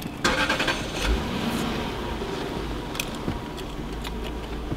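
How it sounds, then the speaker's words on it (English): A 2002 Lexus SC430 convertible engine starts with a brief crank and catch, then settles into a steady, moderately loud idle that continues close by for several seconds. "I'm gonna go ahead and turn the car on."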